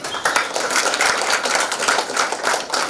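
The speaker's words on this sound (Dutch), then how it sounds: "Applaus." Applause from an audience at a Dutch meeting or debate after a question to the education minister, a dense, steady wash of clapping that fills the whole moment, no speech.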